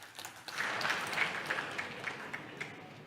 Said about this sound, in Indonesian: Tepuk tangan untuk ekonomi Bali